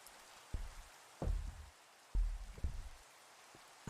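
Rain falls faintly, with scattered low thuds of drops striking a surface in irregular clusters against a soft steady hiss.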